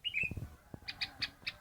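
A yellow-headed leafbird sings nearby in short, high, bright chirps, a quick opening phrase and then a spaced series of repeated notes over faint background noise.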